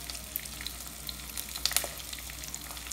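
Onions frying in a clay pot for fish curry give a steady, faint crackling sizzle with a few sharper pops, close by and without talk.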